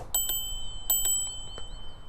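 An iScooter iX7 Pro dual motor electric scooter bell rings in short bright dings, two quick pairs of strikes with a lingering metallic ring, close and clear with no talk.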